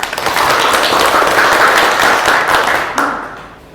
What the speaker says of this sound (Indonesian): bagus sekali ya jawabannya, kita berikan aplaus